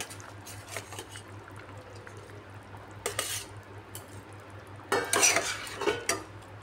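Fried tilapia goes into a simmering potato and ridge gourd curry in a pan, with faint stirring and utensil scrapes over a low background hum, then a short burst of sizzle and bubbling near the end.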